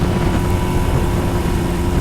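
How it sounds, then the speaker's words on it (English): An abandoned airplane's engine revs up on the ground in a steady, loud, droning roar with a constant low hum, with no talk over it. "Let's see if this engine can get up to some RPMs."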